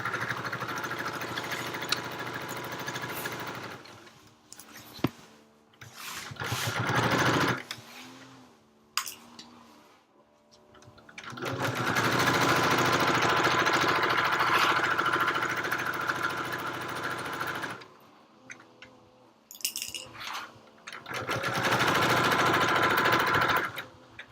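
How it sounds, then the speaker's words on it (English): A motor drones steadily in loud, lengthy stretches broken by quieter gaps, like a lawn mower passing close by outdoors. "The council has decided to mow right alongside my fence."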